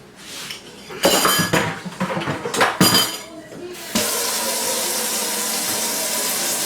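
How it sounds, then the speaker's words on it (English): Cold water pours steadily into a bucket while pork skins are prepared for pickling in a home kitchen, a continuous close rush of water following a few seconds of clattering dishes and pans. "I'm going to put some cold water in here."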